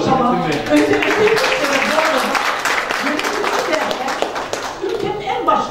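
An audience in a hall breaks into loud, continuous clapping for managers, with scattered voices and a little laughter mixed in beneath the steady applause.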